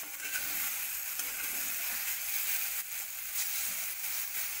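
Khravas bhurji, made from raw colostrum milk, frying in oil: a steady, even sizzle holds close and constant throughout, with faint stirring scrapes underneath.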